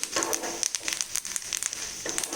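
Two dried red chillies sizzling and crackling in hot oil for a tempering for mango pickle, a steady near frying hiss with scattered sharp pops throughout.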